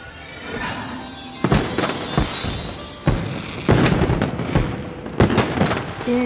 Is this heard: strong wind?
no